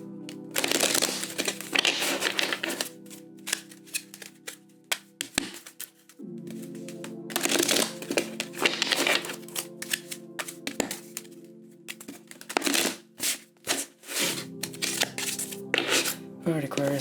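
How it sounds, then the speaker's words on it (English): Tarot cards being shuffled in quick riffling bursts with soft taps and pauses, close up, while a person talks throughout. "we're going to shuffle the deck, or cut the deck for you"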